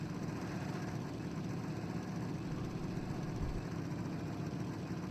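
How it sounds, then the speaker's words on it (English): A low, steady vehicle engine rumble from a video game drones continuously, like a heavy vehicle idling or cruising, with no voices. "Hopefully you can hear me over the vehicle's engines."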